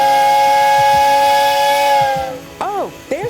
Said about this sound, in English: Oh, there's the whistle.